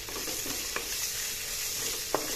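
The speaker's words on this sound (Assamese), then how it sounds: "আলুখিনিও অলপ ৰং চুমুৱা হ'বলৈ দিম" Potatoes frying in oil in a pan for an okra and potato dish, a steady close sizzle with a few sharp scrapes and clicks of a spoon stirring them, no talk.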